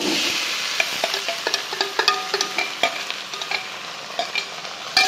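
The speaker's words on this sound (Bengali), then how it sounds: "ভালো করে ভেজে নেব" Sago sizzles in a hot pan while a spatula stirs and scrapes it, producing irregular clicks and taps over the steady frying hiss.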